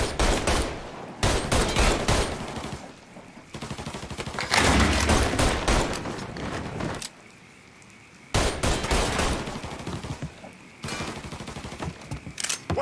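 Bursts of rapid gunfire and machine-gun volleys crack through a Mafia shootout in several loud clusters, separated by brief lulls. No one speaks.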